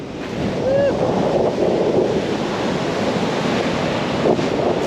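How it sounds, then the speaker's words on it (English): Waves breaking on a black sand beach at Napier, New Zealand, make a steady, full surf roar, mixed with gusting wind buffeting the microphone throughout. "this is a black sand beach if I've ever seen one"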